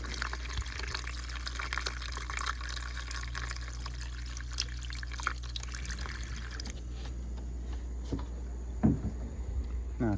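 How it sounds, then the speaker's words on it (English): Water is poured from a jug into an air conditioner's drain pan, a steady liquid splash and trickle that runs continuously, then thins and gives way to quieter dripping near the end. "take some water right now. Just water in a jug. And just go ahead and pour that in there and flush"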